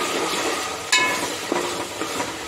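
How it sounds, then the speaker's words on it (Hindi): Two teaspoons of coriander being lightly roasted in a pan for Pune-style dalcha: a soft, steady sizzle with a sharp clink of a spoon against the pan and a few lighter taps, close and alone without talk. "ये हमारा 2 टीस्पून धनिया है, और इसे भी हम हल्का भूनेंगे।"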